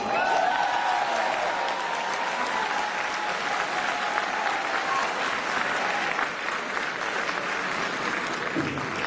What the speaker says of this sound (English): I would like you to encourage and to applaud him because he deserves all our honor today